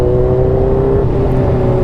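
A Kawasaki Ninja H2 motorcycle engine drones loud and steady at close range, a sustained low rumble with a constant whirring tone and no pauses.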